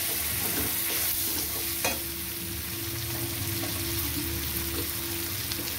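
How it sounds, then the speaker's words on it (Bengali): Chili powder and turmeric fry in a pan, a steady close sizzle with occasional scraping stirs against the metal, continuous and dense with no talking. "লঙ্কার গুঁড়ো দিয়ে দিলাম, হলুদ দিয়ে দিলাম, দিয়ে এটাকে ভালো করে কষিয়ে দেবো।"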